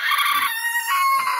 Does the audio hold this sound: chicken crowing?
yes